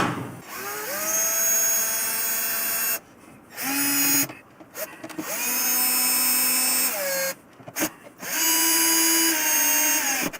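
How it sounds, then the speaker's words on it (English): A power drill drives long screws on a Harley motorcycle in long rising runs, pausing briefly between them, loud and close, its pitch climbing as each screw bites deeper. "Now I ran them in because they're so long with the drill"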